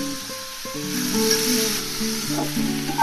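Radish greens dropped into hot oil tempered with a dried chilli, bay leaf and cumin, giving a steady low sizzle under a faint background hum, with no talking.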